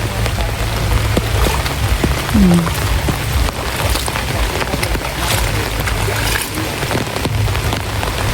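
Steady heavy rain pours down on surfaces outdoors near a bamboo bridge, with rushing flood water running beneath it, a continuous dense wash of sound throughout and a brief faint tonal chirp partway in.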